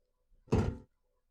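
A single dull thunk of a numeric-locked door that refuses to open in the video game Echo Night, a short muffled knock-like impact against near silence.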